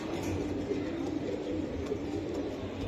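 Racing pigeons, including a young female, coo softly in a loft, giving low, repeated throaty murmurs that stay faint and steady throughout.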